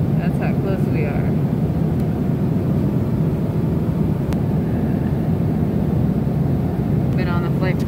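Steady airliner cabin drone during a three-hour flight to New York, a constant low roar heard from inside the cabin, with faint voices murmuring under it.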